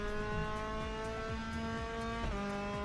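An F3 race car in the RaceRoom sim revs hard and sustains a high, buzzing engine note with gear shifts, while the tyres squeal underneath, loud and continuous with no talk.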